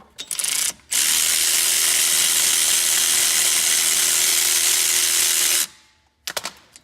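A power tool spins loose the brake caliper bolts on a 2008 Jeep Commander, whirring loud and steady for about five seconds before stopping, with short mechanical clicks before and after.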